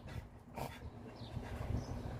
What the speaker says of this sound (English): Oh, my watchdogs.